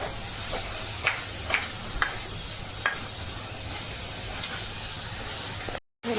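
Vegetables sautéing in a pan with a steady sizzle and a few sharp stirring clacks from a utensil, close and alone, ending in a brief gap of silence.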